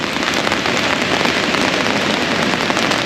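Steady, dense rain patters close overhead on an umbrella at the Manistique River harbor entrance by a lighthouse in Michigan, a continuous even hiss with no breaks.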